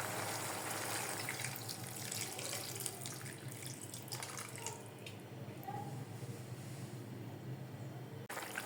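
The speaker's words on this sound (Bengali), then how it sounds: "এখন আমি পরিমাণ মতো ঝোলের জন্য গরম পানি দিয়ে দেব।" Hot water poured steadily into a cauliflower and potato curry, a continuous splashing, gushing stream that runs for about eight seconds and stops abruptly near the end.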